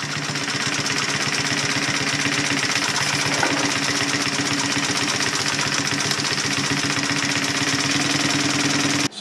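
A Brother LS2 B837 unison-feed industrial lockstitch sewing machine runs steadily and loudly throughout, a fast continuous mechanical clatter with a low motor hum and no talking.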